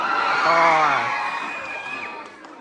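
A crowd of fans at a BFDI x II live tour show in New York City lets out high-pitched screeching and cheering, a loud shrill swell that gradually fades over a couple of seconds.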